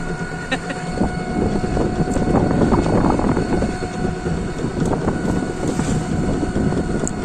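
A steady motor drone with rumbling road noise and wind buffeting the microphone while riding in an electric rickshaw, continuous throughout.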